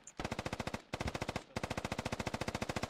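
Automatic gunfire in the video game Squad: long sustained bursts of rapid, evenly spaced shots, loud and close, broken by two brief pauses.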